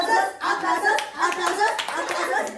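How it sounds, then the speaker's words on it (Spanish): Hands clap in applause at a family birthday celebration, a lively burst of clapping mixed with excited voices, including a child's, throughout the short moment. "¡Aplausos!"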